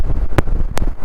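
Strong wind buffeting a microphone during a motorbike ride on a Ladakh trip through Sathyamangalam Tiger Reserve, a steady low rumble with two brief sharper bursts, filling the whole short stretch.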